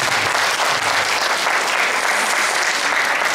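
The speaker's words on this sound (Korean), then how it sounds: "사회자한테도 박수 한번 좀" Crowd at a community charity festival in Hongseong applauding the host, a loud, dense, steady burst of clapping from many hands, alone without voices.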